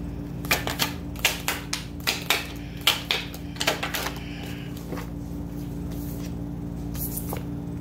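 Tarot cards being shuffled and drawn give a run of crisp, quick flicking and slapping riffles through the first half, then a few sparser snaps, over a steady low hum with no talk.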